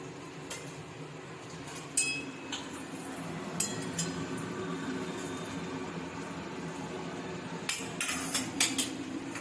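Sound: lifting fried eggplant slices out of the pan

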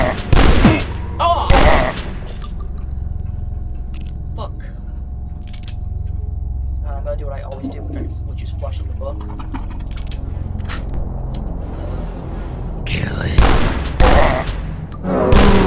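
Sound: shotgun fire in the video game Dusk

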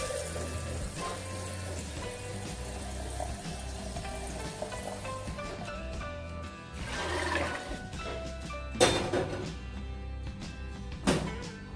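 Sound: water poured into a pot for boiling peanuts

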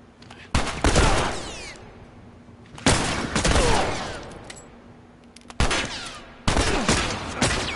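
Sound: gunfire in the video game The Last of Us Remastered

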